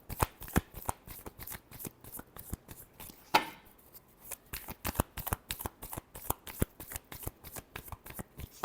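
Tarot cards are shuffled by hand in quick, rhythmic riffling flicks, close and crisp, with one longer cascading riffle midway before the rapid snapping resumes.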